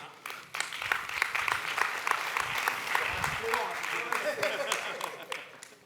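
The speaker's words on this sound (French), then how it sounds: "on va l'applaudir très rapidement" A live audience at an afternoon mentalist show claps for a volunteer joining the performer on stage, steady applause rising quickly and holding for several seconds.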